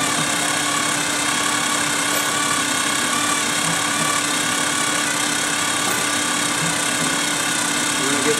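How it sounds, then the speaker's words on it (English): A power case trimmer cutting ammunition cartridge cases during reloading gives a steady, loud mechanical whine with a constant motor hum throughout, close up and unbroken. "And so I set the trimmer up to cut them all that length."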